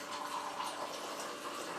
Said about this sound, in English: pull your red label wine and pour it straight in this glass